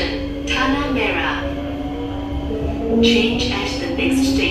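Motor hum of a C151A metro train running between Simei and Tanah Merah, an echoey, fairly strong steady tone heard from inside the carriage throughout, with passing surges of rushing noise.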